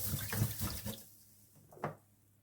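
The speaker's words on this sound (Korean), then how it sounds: "굴을 씻어요. 물에 소금을 넣고" Oysters swished by hand in salted water in a bowl, brief splashing and sloshing that fades, then one short splash near the end.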